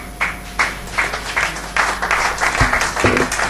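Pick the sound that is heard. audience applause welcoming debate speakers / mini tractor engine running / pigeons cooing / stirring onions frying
audience applause welcoming debate speakers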